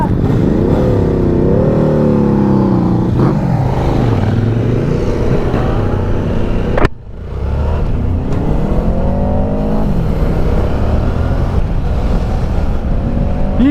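Loud 800cc motorcycle engines revving and roaring past, pitch rising and falling as the bikes accelerate, with a brief sharp break midway.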